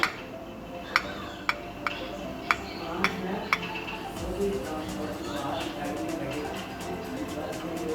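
A knife cuts through a layered chicken club sandwich on a board, a series of sharp, evenly spaced taps followed by softer scraping and rustling, with someone talking over it.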